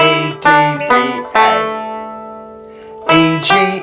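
Irish tenor banjo picking a short phrase of the Kesh Jig, a few bright plucked notes with one long ringing note that fades before a final pair of plucks, played alone with no talking.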